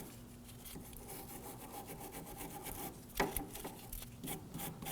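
The threads of a 2008-2011 Ford Focus inner tie rod are scrubbed clean, giving quiet, steady rubbing and scraping strokes up close, with one sharper knock partway through.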